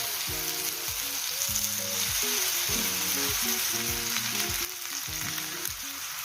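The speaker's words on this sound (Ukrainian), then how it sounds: "Груші смажаться" Pear slices sizzle and fry steadily in a pan while a warm chicken liver salad is being cooked, a constant bright hiss over a tonal musical background.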